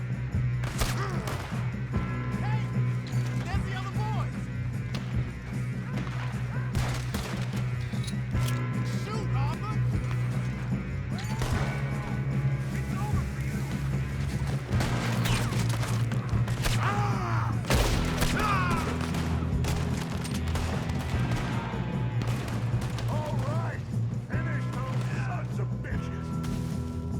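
Gunfire from a Red Dead Redemption 2 shootout, a steady dense spread of shots and impacts layered over continuous game music and ambience, with characters talking over the action.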